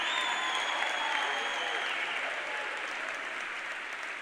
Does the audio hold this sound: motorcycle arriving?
no